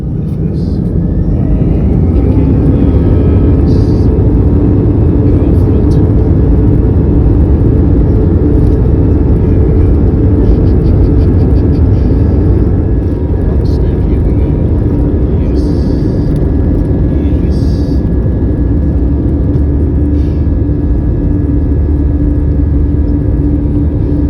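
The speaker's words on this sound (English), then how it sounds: "boarding our flight in readiness for takeoff" An airliner's engines roar loudly and steadily in a deep, continuous rumble, heard from inside the cabin during the takeoff run, with no break for the whole stretch.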